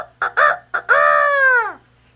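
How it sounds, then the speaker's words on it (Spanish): A rooster crows at dawn, two short clucking notes leading into a long, loud drawn-out cock-a-doodle-doo that fades at the end, heard alone and close. "Luego, al salir el sol, Gallo se despertó y cantó."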